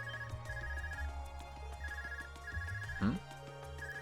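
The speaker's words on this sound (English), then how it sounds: "Is that your Arcus ring?" An ARCUS communicator in the Trails video game rings in repeated short electronic trills at moderate volume, with game music and a brief effect sound around it.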